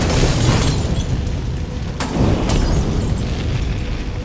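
Molotov cocktails bursting into flame in Batman: Arkham Origins, a loud, continuous roaring rumble of fire and blasts with a couple of sharp cracks standing out.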